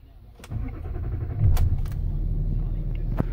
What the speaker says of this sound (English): If I start the car up,